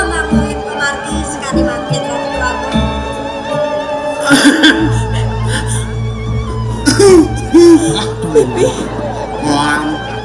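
A few harsh coughs rising out of background chatter during a Balinese drama gong stage play, with voices talking around them.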